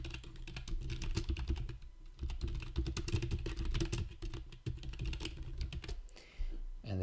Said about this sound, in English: you've heard me typing enough